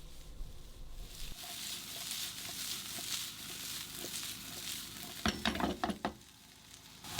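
Pan-fried potatoes tossed with butter and dried herbs in a pan, a quiet continuous sizzle with a few sharper clattering tosses near the end.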